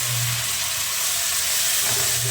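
Boiled cluster beans tipped into a hot frying pan under a lid, giving a steady, close sizzling hiss that holds evenly with no voices.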